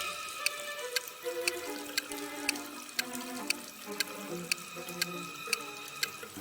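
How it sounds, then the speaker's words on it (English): Water runs from a wall faucet into a sealed room, with a steady stream under evenly spaced ticking pulses about twice a second and a sustained tonal wash, heard alone. "a room that's slowly getting filled with water coming from a faucet on the wall"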